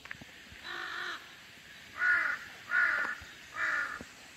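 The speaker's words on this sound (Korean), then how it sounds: "그리고 까마귀들도 여기 와서 밥 먹고." Four harsh crow caws at a mountain temple feeding site on Jirisan, one drawn-out call followed by three shorter ones at a steady interval, moderately near over quiet outdoor background.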